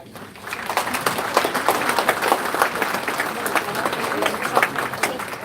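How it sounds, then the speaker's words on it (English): A crowd at a U.S. Congress campaign event claps steadily, dense and continuous applause filling the room for several seconds. "A big clap to the volunteer team, please."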